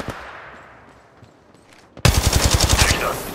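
Automatic gunfire in the video game Apex Legends Mobile erupts after a quiet stretch as a loud, rapid burst of about a dozen evenly spaced shots.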